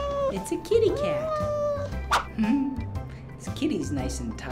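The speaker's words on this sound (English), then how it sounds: "It's a kitty cat." A cat at an animal shelter meows several times, drawn-out and fairly close, over a busy background of toys and room noise while a person talks.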